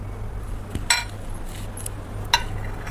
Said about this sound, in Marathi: प्लेटिंगसाठी एका प्लेटमध्ये अशा प्रकारे आपण हा हलवा काढून घेणार आहोत.